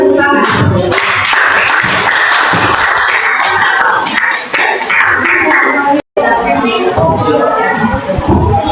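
After a class presentation, a group of students claps together: continuous, fairly loud and close, with a brief dropout near the end and young voices chattering over it.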